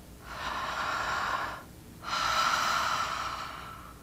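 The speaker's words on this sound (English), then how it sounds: "that sound that we hear is the air passing over the vocal cords" Two long, loud, hissing Ujjayi yoga breaths, one inhale and one exhale separated by a brief pause, with air rasping over the vocal cords close to the microphone.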